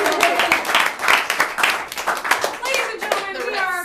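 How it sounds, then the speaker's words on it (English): An audience at a live comedy show claps in a dense burst of applause that carries on steadily, with a few voices mixed in. "one more round of applause for the check booth"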